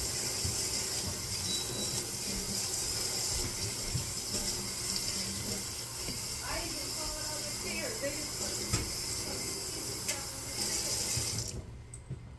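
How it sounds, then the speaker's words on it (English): Water runs steadily from a tap as a broken plastic turkey bucket is rinsed in a sink, a continuous hiss with faint knocks and clatter, while a voice talks at times over it. "Now you have to rinse it like crazy."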